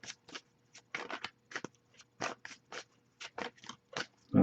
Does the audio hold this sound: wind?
no